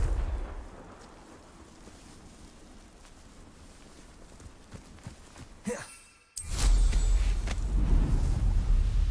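The Confringo fire spell explodes in the video game Hogwarts Legacy: a low rumbling buildup drops out briefly before a sudden loud blast and a sustained booming roar.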